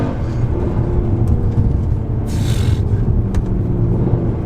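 A high-mileage Mercedes C63 AMG accelerates hard in manual first gear, its engine a loud, close, continuous roar with a deep rumble that holds steady throughout.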